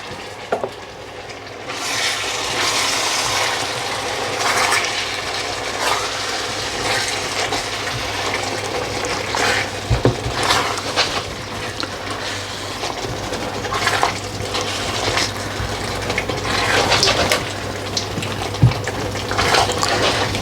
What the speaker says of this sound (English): I'm just going to add a little bit of water into this to help it cook down